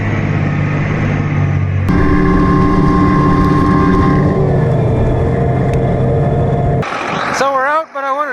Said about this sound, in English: The RT2 tractors, when you get them in mud, they're bad for turning.